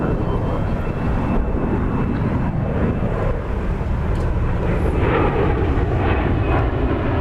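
Airbus A321 arriving from Los Cabos performing a go-around at DFW, a steady loud jet engine roar spreading across the whole clip, with faint talk audible beneath it.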